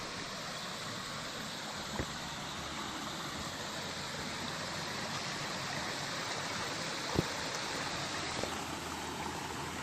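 Steady broadband rush of a mountain stream flowing through Wangbang valley near Dongducheon, continuous and moderately distant, with a couple of faint knocks and no voices.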